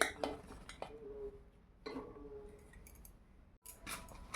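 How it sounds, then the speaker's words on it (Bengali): Bottle gourd pieces dropped into a pressure cooker, a few scattered clinks and knocks against the metal pot with quiet pauses between them. "প্রেসার কুকারের মধ্যে সব লাউগুলো দিয়ে দে"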